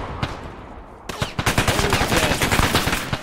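Rapid automatic gunfire in the military shooter Arma 3: a single crack, then a sustained rattling burst of closely spaced shots, loud and near, with faint voices in the background.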